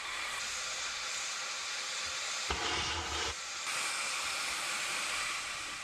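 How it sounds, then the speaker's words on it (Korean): Geothermal steam jets from a production well at a power plant with a steady broadband hiss like a boiling kettle. The rush swells louder through the middle and carries on alone, without talk. "땅속에서 올라오는 수증기가 마치 끓고 있는 주전자처럼 소리내면서 뿜어져 나오고 있다."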